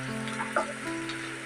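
Sliced green chilies fry in a pan with a brief, moderate sizzle over a faint steady tonal hum.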